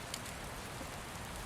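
Steady rain falls on a surface as a dense, even hiss of close, continuous drops with no voices.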